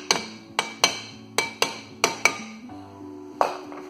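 Sharp metallic hammer taps on the rear brake disc of a 2003 Toyota Corolla during a brake pad and disc job, roughly eight close, ringing strikes in an uneven rhythm with brief pauses between them.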